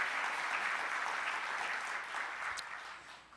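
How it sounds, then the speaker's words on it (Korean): A church congregation at a Sunday service gives a brief round of clapping, soft and somewhat distant, fading slightly toward the end. "박수 한번 내요"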